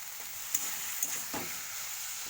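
Fried potatoes and figs are stirred into a spiced curry in a pan, a quiet, steady sizzle broken by a few soft spoon scrapes and taps.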